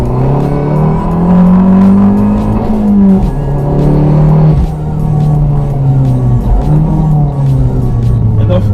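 Modified Abarth car engine revving hard and close, a loud buzzing drone that climbs and drops in pitch several times, with brief dips between pulls and no talking.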